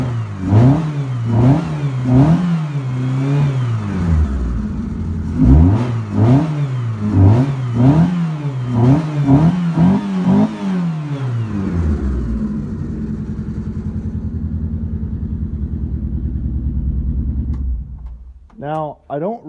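A high-performance race car engine, freshly cold-started with a very low idle, is blipped hard in a rapid series of loud close revs, then held at a steady growling rumble before dropping away.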